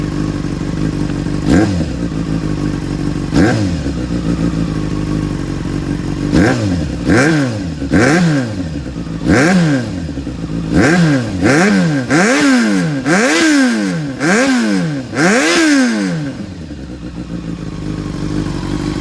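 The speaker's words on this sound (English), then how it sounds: "I'm gonna rev her up a little bit so you can hear what that looks like." A 2007 Yamaha FZ6N motorcycle with aftermarket exhausts idles close by, then revs repeatedly in quick rising and falling blips that grow more frequent, before settling back to idle.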